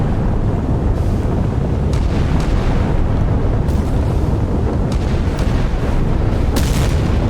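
In a naval battle video game, shore-launched missiles and naval gunfire pound warships such as a Kirov battlecruiser, Ticonderoga cruiser and Arleigh Burke destroyer, making a loud, continuous rumble of booms and blasts with no talking.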